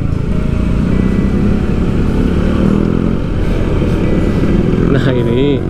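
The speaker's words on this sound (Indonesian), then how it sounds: "ini motor sampai ke tengah-tengah biasanya nanti menghalangi mobil tuh" Motorcycles stream past on a busy national road near the Cipadung landslide area in Majalengka, a loud continuous engine drone close by, with a brief rising engine whine near the end and people talking underneath.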